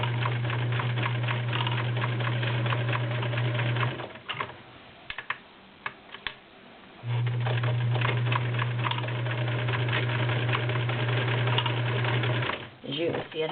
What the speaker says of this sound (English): This is 5 layers of denim.